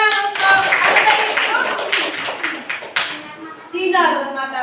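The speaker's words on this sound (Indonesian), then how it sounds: "Kasih tepuk tangan untuk apa tadi?" Children in a classroom clap their hands together in a short burst of claps, loud and close, with a teacher and children talking over it.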